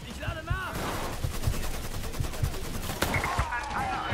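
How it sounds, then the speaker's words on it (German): A car blows up right beside the player in the video game Mafia III, heard as a loud blast amid repeated gunfire bursts, with a voice talking over the chaos. "Weil die scheiß Karre neben mir explodiert ist"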